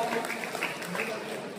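A crowd at a song launch party claps in a dense, steady burst of applause that fills the space, with voices mixed in underneath.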